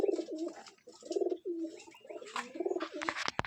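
Black-eyed Jacobin (Jak) pigeons coo in a steady run of soft, rolling, close-up calls, with a few sharper rustles and clicks near the end.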